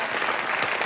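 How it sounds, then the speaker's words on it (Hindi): A television comedy studio audience breaks into applause, a brief, loud and dense roar of clapping that fills the space without any voices over it. "इनके लिए एक बार तालियां बनती हैं।"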